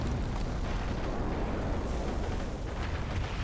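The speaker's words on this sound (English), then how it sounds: "Oh, we see our first rocket artillery" German rocket artillery firing in a video game: a dense, continuous roaring rumble of launches and blasts, loud and sustained throughout with no voices.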